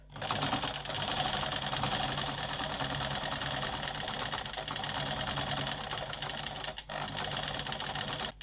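Sewing machine running a half-centimetre seam on an apron dress: a continuous rapid mechanical stitching whir with a brief pause near the end, steady and moderately close, no voices.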